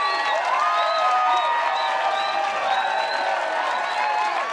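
A large pickleball crowd at a PPA Newport mixed doubles match cheers and shouts continuously with scattered applause, a dense roar of many voices at steady loudness.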